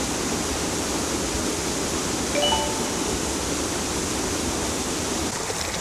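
Yongso Falls in Deokgu Valley, Uljin, roars as a steady, full rush of falling water that stays constant throughout, with no voices.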